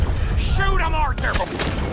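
Gunfire in Red Dead Redemption 2 booms close and loud under a shouting voice, with sharp shots and rumbling reports during a chaotic fight.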